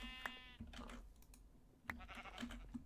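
Sheep bleat in Minecraft with the TerraFirmaCraft mod, two short wavering calls with soft keyboard clicks and faint ambience between, fairly quiet overall.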